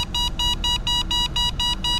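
An Engwe X24 electric bike's buzzer sounds in a rapid series of about eight evenly spaced electronic beeps, each short and tonal. Heard clearly over low background noise with no voices.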